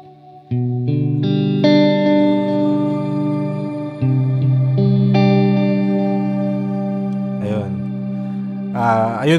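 Electric guitar played through an HX Stomp with a shimmer reverb, loud sustained chords and single notes ringing into a bright, swelling wash of pitched-up reverb tails, with a few quick strums near the end.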